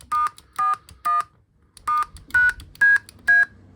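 A DIY tone generator built into a custom lower console for a K.I.T.T. car replica, playing a sequence of seven short electronic beeps at shifting pitches, close and clear, no talk.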